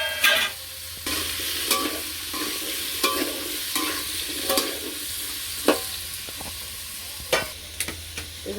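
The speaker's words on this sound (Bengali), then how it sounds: "আলু দিয়ে ভাজবো" Potatoes frying in hot oil under a constant close sizzle, with a spatula scraping the pan in irregular strokes, moderately loud, and no voices.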